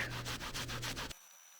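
A Scotch-Brite pad scrubs briskly across a metal art coin in about six quick back-and-forth strokes, close and clear, then stops abruptly.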